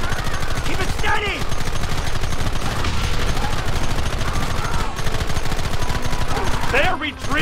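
Sustained gunfire in the Western video game Red Dead Redemption: rapid, dense volleys of shots crackle continuously at a loud level, with brief voices calling out beneath the barrage near the end.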